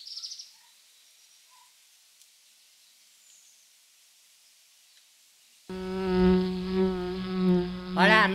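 A cartoon fly character buzzes briefly at the start, followed by near silence, then a loud, tonal, wavering buzz-like voice with strong harmonics takes over for the last few seconds.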